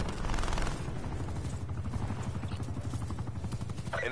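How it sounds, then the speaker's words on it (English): Call of Duty attack helicopter and gunfire: a rapid, rhythmic rotor chop overlaid with bursts of automatic fire, steady and moderately loud throughout. "Hostile attack chopper inbound."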